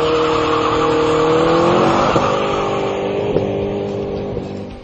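A 2010 Hennessey Camaro HPE 550 and a Ford Shelby GT500 muscle car drive on Glendora Mountain Road in Southern California, their engines droning loud and close with rising and falling pitch through gear changes.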